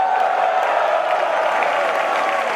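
An audience at an Amway diamond success celebration claps continuously in a dense, even roar of applause, loud and sustained, with crowd noise mixed in.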